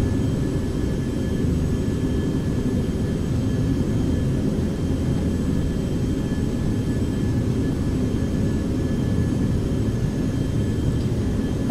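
Steady, loud engine drone of a Beechcraft Premier business jet in a flight simulator game, sound sourced from FSX, a continuous even hum held throughout with no breaks.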